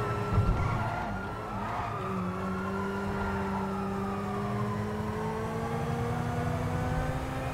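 Koenigsegg Ragera hypercar speeding along avenues in GTA V, a loud sustained engine whine rising in pitch as it accelerates, with brief tire squeal near the start.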